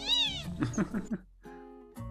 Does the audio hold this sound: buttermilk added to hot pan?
no